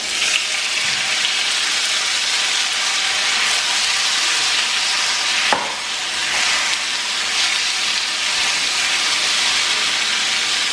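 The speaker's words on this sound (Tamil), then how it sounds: "இதே ஆயிலில் தக்காளி 3 தக்காளி கட் பண்ணியிருக்கேன். அதை ஆட் பண்ணிடுங்க." Three cut tomatoes sizzle loudly in hot oil in a pan for tomato kara chutney, a steady dense frying hiss throughout with a brief stir or clatter midway.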